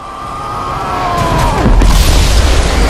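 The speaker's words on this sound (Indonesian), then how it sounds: "Dia pun meleduk bak petasan anak SD dan meninggoy untuk kedua kalinya." A character bursts like a schoolkid's firecracker, a rising whoosh with a descending whistle that swells into a loud, close, rumbling boom and lingering roar.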